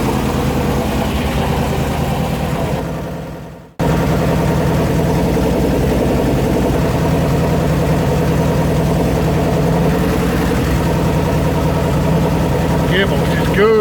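Engine of a 1972 Range Rover running steadily in second gear, a loud, continuous mid-range drone with a brief cut-out early on before it picks straight back up.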